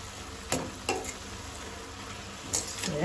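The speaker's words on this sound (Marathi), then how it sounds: "भाजी आमकां अशी मदीं मदीं धवळून घेवपाक जाय।" Red amaranth greens frying in a covered pan, stirred with a few scraping strokes around the half-second, one-second and two-and-a-half-second marks over a faint, steady background sizzle.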